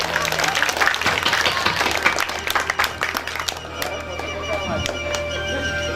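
A crowd at a village Ram Katha religious gathering claps loudly for a figure arriving on stage, dense applause that breaks into scattered claps amid background voices and a steady hum.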